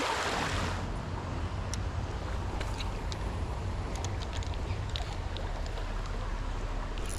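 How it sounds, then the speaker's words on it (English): Loud rushing water of a creek during creek wading for panfish and crawfish, a constant close broadband wash with low rumble, steady and unbroken with a few faint clicks on top. "This water is pretty loud."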